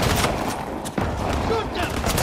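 Gunfire crackles in the video game Uncharted The Lost Legacy, a dense, loud, continuous barrage with voices shouting over it.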